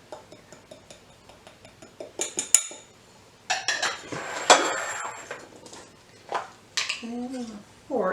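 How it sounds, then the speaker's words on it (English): A utensil stirs dry keto brownie ingredients in a bowl, giving a run of quick rhythmic taps and scrapes, then louder clinks and clatters against the bowl, close by, with brief talking mixed in. "So just mix it until it's combined."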